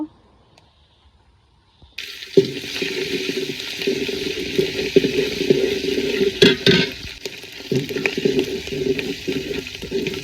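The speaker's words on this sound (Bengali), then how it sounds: "এখন এই যে চালটাও ধুয়ে নিছি" Rice being rinsed by hand in a pot of water in a village kitchen, a continuous swishing and sloshing of grains and water that starts after a quiet opening and runs steadily, fairly close and moderately loud.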